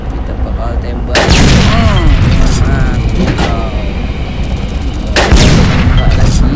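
Tank cannon shots in a WWII video game, booming loudly at least twice, mixed with game effects while someone talks excitedly in Indonesian over the action.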